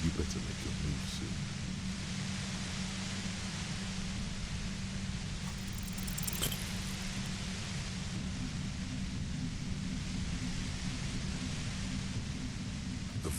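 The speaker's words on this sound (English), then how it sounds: "The violent white noise becomes even more overwhelming closer to the command." Dense, steady roar of white noise from Disco Elysium, harsh and unbroken across the whole stretch, with a low rumbling hum beneath it and no clear speech.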